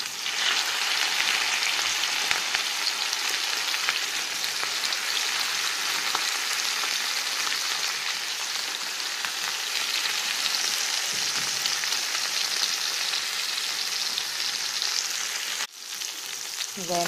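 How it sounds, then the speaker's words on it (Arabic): Flour-dredged mackerel fillets frying in hot oil on a gas stove, a dense, steady sizzle that holds loud and close throughout, dipping briefly near the end before resuming. "نبتدي نحط السمك في الزيت"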